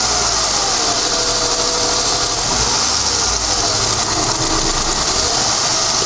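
A Ford EF Falcon engine with a suspected vacuum leak and an intermittent idle problem idles roughly, giving a loud, dense mechanical rumble close up that holds steady and unbroken throughout.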